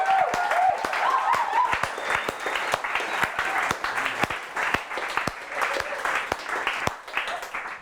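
A large audience claps in sustained, dense applause celebrating coding bootcamp students at a demo day in Bali, steady and loud throughout with a few sharper claps standing out.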